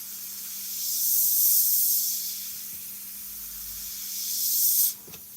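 An airbrush sprays paint in two soft, steady hissing bursts, one early and one near the end, with a sharp cutoff after the second and a quiet pause between them.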